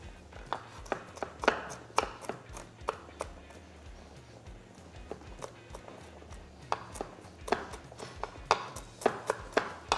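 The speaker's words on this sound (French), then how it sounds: "Je vais pouvoir ajouter mes noix que je vais concasser." Walnuts being chopped and crushed with a knife on a board, a series of sharp uneven taps and crunches, close and fairly quiet.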